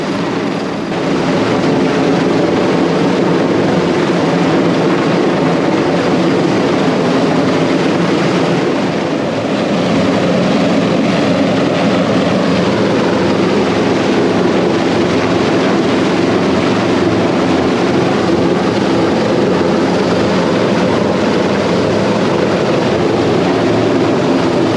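A helicopter hovers above a remote passenger ship during a medical evacuation, its rotor and engine making a loud, steady roar that fills the whole stretch without a break or any voices.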